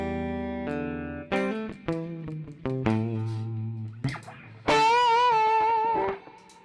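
An electric guitar plugged into an amplifier plays a string of plucked notes and chords, each ringing briefly before the next. It ends on a louder, bright sustained chord, with no talking.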